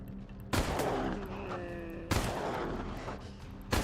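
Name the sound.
gunfire in video game Wasteland 3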